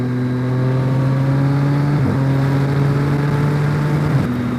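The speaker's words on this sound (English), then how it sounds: "Lovely sound on this bike" A Triumph Street Triple motorcycle with a LeoVince LV One aftermarket exhaust drones steadily up close with a deep, throaty note, revving briefly twice, with no talking over it.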